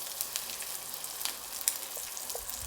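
White shrimp sizzle and crackle in melted butter in a hot pan, a steady close frying hiss with scattered pops and spits, no voices.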